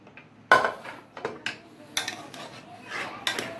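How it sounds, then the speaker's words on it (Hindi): A metal pressure cooker lid comes off after four whistles, with mutton for shami kebab cooked inside: several close, sharp metallic clanks and scrapes spread across a few seconds, with no talking. "चार सीटी के बाद कुकर का ढक्कन निकाल रहे हैं।"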